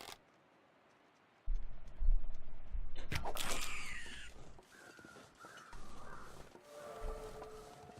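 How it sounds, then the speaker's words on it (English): Crows cawing in a birch forest in the survival game The Long Dark, a few harsh calls in the middle distance over quiet wind, with a sharp click as a bow is handled. "got crows in that direction."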